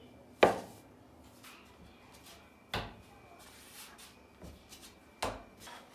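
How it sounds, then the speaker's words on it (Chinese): A kitchen knife chopping a rolled log of dough into equal pieces for dried-vegetable flatbreads, three separate sharp thunks on the board spaced a couple of seconds apart, close and clear against a quiet room. "切成相等的份儿"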